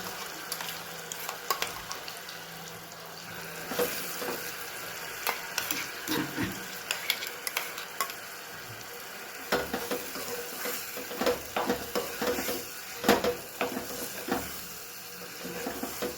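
Garlic chutney sizzles in hot oil in a pan, a steady frying hiss with scattered pops and the clicks of stirring. It is heard close up with no talking.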